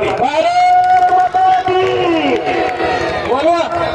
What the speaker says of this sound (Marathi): टाळ्या करा भारतसाठी.